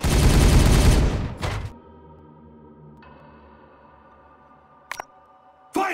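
Gunfire in the game Warhammer 40000: Regicide, a loud dense burst of shots for about a second and a half, followed by quiet tones and a couple of short sharp cracks.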